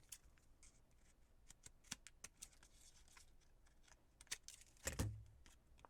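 Scissors trimming a glued paper die cut for a scrapbook page: a series of quiet, crisp snips at irregular intervals, close and faint, ending with a brief louder rustle of handled paper.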